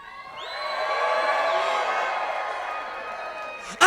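At a submission grappling event, the Northwest Submission Challenge 6, a crowd cheers and whoops, the roar swelling quickly, holding loud, then easing slightly before a sharp noise at the end.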